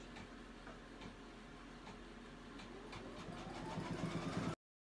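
A sewing machine stitching purple yarn embroidery for trapunto, a steady fast mechanical hum and ticking that grows slightly louder near the end before cutting off.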